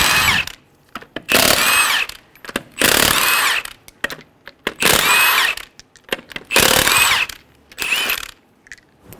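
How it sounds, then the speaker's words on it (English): A power impact tool removes five lug nuts from a 2003-2008 Honda Pilot wheel with a 19 mm socket, sounding as loud, close whirring bursts of about a second each, separated by short pauses. "Using a 19 millimeter socket, remove the 5 lug nuts."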